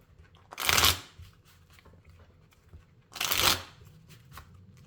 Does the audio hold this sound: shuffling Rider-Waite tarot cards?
yes